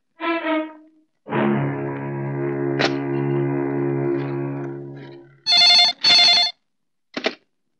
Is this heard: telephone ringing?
yes